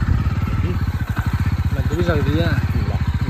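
A motorcycle engine chugs in a rapid, even low-pitched pulse while off-roading on rough ground, close and steady, with someone talking over it.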